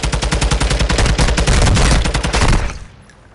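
Rapid bursts of video game gunfire crackle loud and close in a dense, fast rhythm, like automatic weapons firing nonstop, before cutting off abruptly into near silence at the end.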